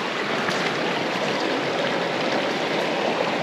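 Spring water bubbles up out of grassy ground in a steady, close gurgling and rushing flow that carries on without a break and with no voices.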